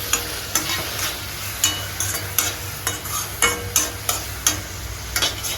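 Food being mixed with spice powder in a hot pan, a rhythmic series of scraping stirring strokes about twice a second over a continuous sizzle, close and fairly loud, no talking.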